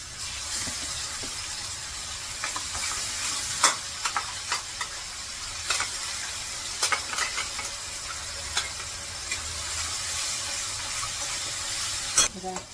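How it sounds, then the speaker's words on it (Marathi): Onion frying with sesame, ginger, garlic and coriander paste in a pan, a continuous close sizzle broken by repeated sharp scrapes and taps of a spoon stirring. "आता हे कांदा परतला आहे मी आत्ताच हे टाकते सगळं परतायला"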